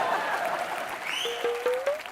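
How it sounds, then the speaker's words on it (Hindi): Studio audience applause for Chris Gayle on a Hindi comedy variety show, a broad steady wash of clapping throughout with a tonal musical sting rising near the end. "अरे क्रिस गेल के लिए जोरदार तालियां।"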